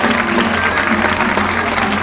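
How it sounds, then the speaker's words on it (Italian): A crowd applauding the flag wavers at a living chess event in Mori, a steady, fairly loud wash of clapping with a faint tonal hum underneath. "Gli sbandieratori, anche loro un applauso, Alberto, Leonardo,"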